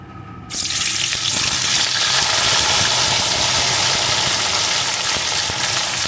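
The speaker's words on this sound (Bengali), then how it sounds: "এখন এই তেলের ভিতরে দিয়ে দেবো কেটে রাখা বেগুন" Cut eggplant drops into hot oil left from frying pabda fish and bursts into a loud, steady sizzle that starts suddenly and holds strong throughout, with no talk.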